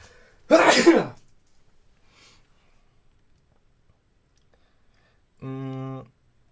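One sharp, loud sneeze bursts out near the start, followed by quiet and then a brief voiced sound.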